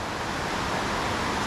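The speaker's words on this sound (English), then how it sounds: "So here's the creek that drains out of Lipsey Lake" A sizable wild creek draining Lipsey Lake flows below Otter Falls on the Snoqualmie Lake Trail, making a constant broad rushing hiss that stays steady and fairly close throughout.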